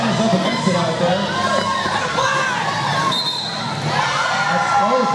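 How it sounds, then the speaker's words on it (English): A roller derby crowd in an arena cheers and shouts loudly and steadily, with a dense wash of voices and whoops and an announcer talking over the top. "And the crowd goes bananas."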